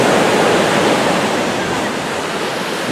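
Loud, continuous surf rushes and roars on a surfers' beach in Bali, with the steady wash of breaking waves filling the whole clip and light wind on the microphone.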